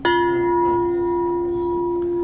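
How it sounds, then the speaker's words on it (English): A front doorbell at a Seattle home rings once with a loud, clear chime tone that starts sharply and then decays slowly, heard close and alone. "So that is your front doorbell."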